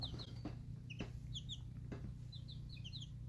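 Young chicks, around day 19 of hatching, peep and cluck in short high bursts over a steady low hum, with a few soft taps in between.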